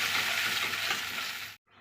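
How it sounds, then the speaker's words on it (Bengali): Bottle gourd hitting hot tempering spices in a pan and being stirred, a loud close sizzle with scraping that cuts off abruptly near the end. "এই দেখো এখন আমি লাউটাকে দিয়ে দিলাম"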